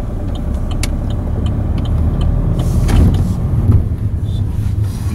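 A car drives on town streets during a German driving-school lesson. A steady, close engine and road rumble swells slightly midway, with a few faint clicks and no clear talk.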